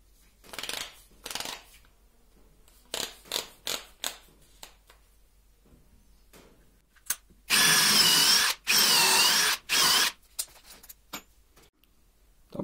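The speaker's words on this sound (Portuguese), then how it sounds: "Vamos abrir mais um furo. A mesma broca 5 milímetros." A DeWalt DCD7771 brushless drill bores a hole with a 5 mm bit, first in short scattered bursts, then two sustained loud whirring runs close by, with a few taps and clicks around them and no talking.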